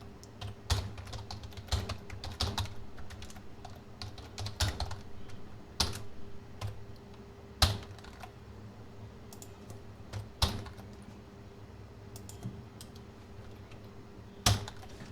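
Computer keyboard keys tapped while writing code, irregular bursts of sharp clicks with a few louder isolated key strikes, close and fairly quiet over a faint steady hum.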